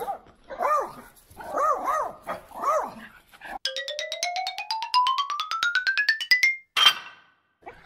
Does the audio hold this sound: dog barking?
yes